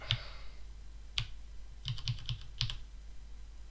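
Several separate computer keyboard spacebar presses, crisp and fairly close: a single tap, then a quick cluster of four, then a pair, spaced irregularly over a quiet background.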